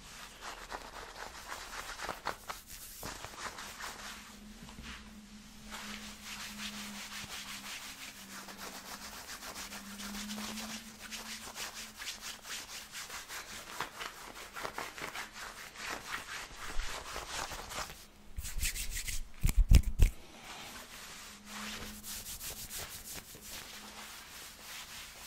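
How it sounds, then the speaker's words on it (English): Denim jeans rubbing and brushing against each other during a clothing try-on, a steady close, soft scratchy friction that runs throughout with a few louder handling bumps near the end. "I really like the sound of the jeans."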